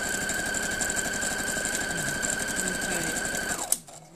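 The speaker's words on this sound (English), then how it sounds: "I'm going to turn it round and sew down this side." A sewing machine stitches a patchwork block with a fast, even mechanical whir and steady needle rattle, running continuously up close before stopping abruptly with a click.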